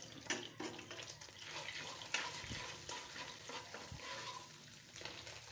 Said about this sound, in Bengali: এখন দিয়ে দেব আদা রসুন পেস্ট 1 চা চামচ করে